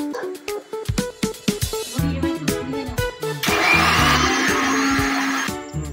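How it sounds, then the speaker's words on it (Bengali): A kitchen mixer grinder blending mango pieces for ice cream whirs loudly up close, steadying into a sustained roar after a few seconds over background music, then cutting off near the end. "আমটাকে আমি একটু মিক্সিতে ঘুরিয়ে নেব"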